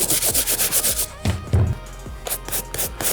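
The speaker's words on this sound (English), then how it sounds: "I'm gonna grab our soft bristle brush, dry as is, and just dry brush the sneaker" A soft bristle brush is dragged dry over the delicate uppers of a New Balance sneaker in fast, close scrubbing strokes that pause briefly and then start again.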